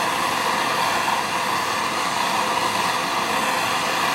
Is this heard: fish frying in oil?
no